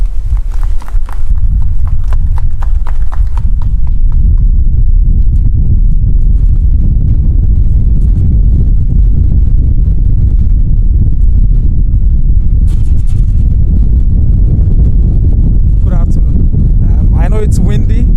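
Strong wind buffets the microphone outdoors, a loud, continuous low rumble that fills the whole stretch, with faint voices and some clattering sounds breaking through now and then.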